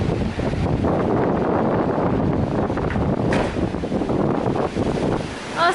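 Steady wind gusting across an open outdoor deck of the Disney Fantasy cruise ship, a loud continuous roar buffeting the microphone throughout, with no talking.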